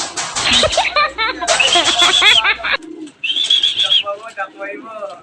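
A young racing pigeon coos in repeated soft, rolling phrases close by, with people talking over and between the calls.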